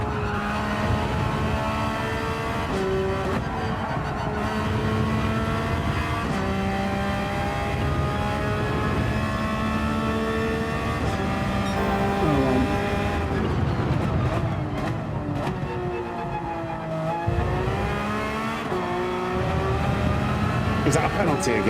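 Race car in Gran Turismo 7 running steady at high revs, with gear shifts, rising and falling engine pitch and brief tire squeal; loud and continuous throughout with no talk.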